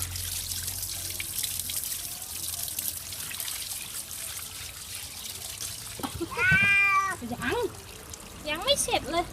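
A cat being bathed under running water lets out a couple of loud, drawn-out meows near the end, following a long stretch of steady trickling tap water.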